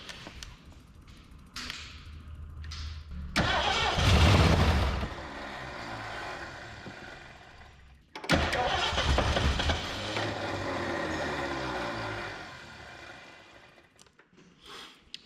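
Weak starter cranks a 1970 Ford Torino GT engine that sat abandoned for 24 years, two long labored bursts of grinding separated by a short pause, loud and close with no talking.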